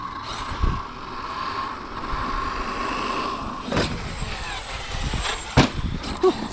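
Traxxas X-Maxx Ultimate large-scale RC monster truck with 1100KV motor running outdoors, a steady motor whine punctuated by a few sharp thumps and clatters as it lands, moderately close and loud.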